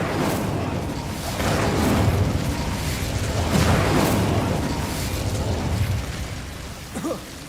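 Fire spell cast in the video game Hogwarts Legacy, a series of swelling whooshing booms and roaring bursts rising and fading over several seconds, loud and close, trailing off near the end.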